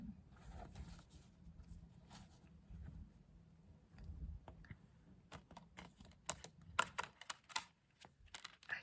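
Quick, crisp clicking bursts of tarot cards being shuffled, riffling in short clustered flurries over a low background rumble, fairly close.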